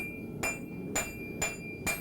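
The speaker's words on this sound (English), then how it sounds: "we're just hammering away here" Hot steel hammered on an anvil during forging: four sharp, evenly spaced metallic blows about half a second apart, close and ringing over a low background hum.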